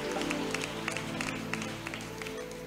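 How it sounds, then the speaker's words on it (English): Scattered clapping from a church congregation honoring pastors at a ministry meeting in Gaborone, Botswana, fairly faint and sparse over a sustained low hum of music or room tone. "can we just put a hand, our round of applause for them?"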